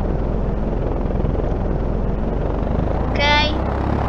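Propeller airplane from a Minecraft vehicle mod, MrCrayfish's mod for 1.16.5, revving a steady low engine drone as it takes off, with a brief higher whine near the end, while a voice talks over it.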